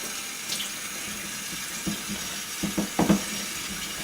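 Tap water running steadily into a sink or bowl during pastry making, a continuous broadband wash with a few soft knocks and splashes near the end, close by and without talk.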